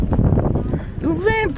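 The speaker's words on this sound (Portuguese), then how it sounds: "O vento!" Wind blows across a high rocky lookout at Ubajara National Park, a steady broadband rush buffeting the microphone beneath excited talk, with a voice rising near the end.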